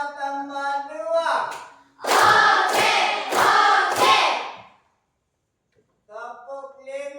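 A group of people claps in three sharp, loud bursts between stretches of speech, with silence after the claps.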